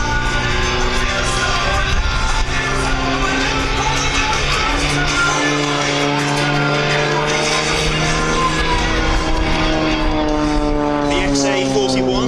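Xtreme Air aerobatic propeller plane flying high-G manoeuvres, a loud continuous engine drone with shifting pitch that rises and falls as it climbs and rolls, heard close with a voice talking over it throughout.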